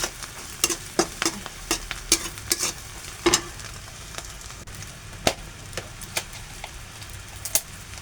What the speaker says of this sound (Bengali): এখানে পেঁয়াজ কুচি মরিচ কুচি এগুলাই ভেজে নিব